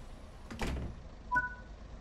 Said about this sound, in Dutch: We doen even de deurtjes dicht.